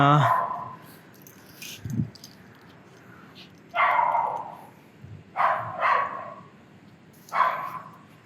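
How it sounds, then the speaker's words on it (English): A dog barks several times at irregular intervals indoors, sharp mid-pitched barks, some in quick pairs, close and fairly loud over low background noise. "my dog is barking"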